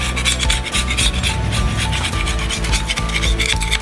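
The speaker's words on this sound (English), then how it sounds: "We're gonna go ahead and scrape the gasket off." An old gasket being scraped off the engine block of a 1965 Mustang Fastback, a continuous loud rasping scrape in quick repeated strokes, close up.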